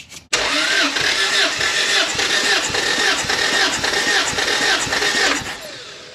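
A car engine cranks and catches after a brief click, then settles into a loud, steady idle up close, its smooth drone running for several seconds before easing off at the end.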